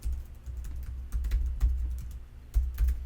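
Rapid keyboard typing with irregular clicks and occasional heavier keystrokes, close by, no voices.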